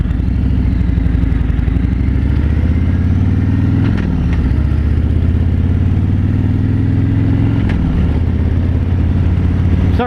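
A 2017 Harley-Davidson Road King Special rumbles loudly and steadily while being ridden, its low V-twin drone dipping briefly twice as gears shift.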